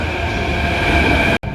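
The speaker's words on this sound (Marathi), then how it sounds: "चला मित्रांनो बघा मेट्रो आली" A metro train arriving at a station, a loud steady rumbling roar with a tonal whine, cutting out abruptly near the end.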